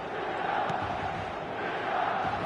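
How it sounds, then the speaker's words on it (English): Large stadium crowd in the eFootball 2026 video game roars with a steady, dense wash of noise and faint chanting throughout, loud and continuous with no distinct breaks. "The stadium is full of noise and energy."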